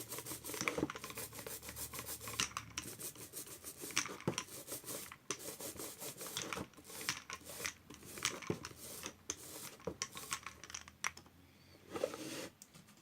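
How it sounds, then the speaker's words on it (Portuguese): Small roller spreading glue across a craft storage holder piece, giving close, quiet rubbing and rasping strokes in a repeated back-and-forth rhythm, with short pauses between passes and no voice. "Passo cola. Espalho com rolinho."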